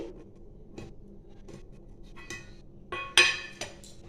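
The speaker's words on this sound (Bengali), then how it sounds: "আর এটা আমি ঢাকাটা খুলে দেখছি।" A metal lid comes off a cooking pot of steamed egg curry, making a sharp clink and rattle after quiet kitchen background, with a few faint taps before it.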